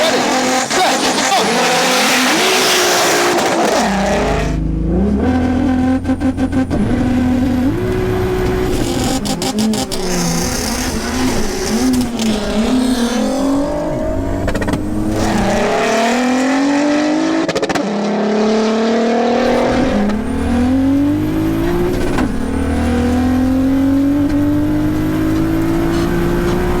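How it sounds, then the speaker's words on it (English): An AWD turbocharged R30T VW Golf and a 4x4 VXR Nova drag race, engines roaring loud and close with repeated rising revs through gear changes and some tire squeal, sustained throughout. "Next up is the drag races, and this is where things get interesting"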